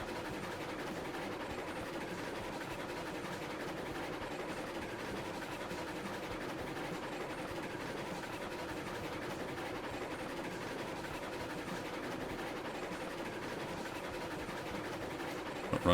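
A Heisler locomotive pulling 22 iron cars in Railroads Online rolls on with a steady low rumble and light rhythmic wheel clatter, constant and close, no voices, a brief knock at the very end.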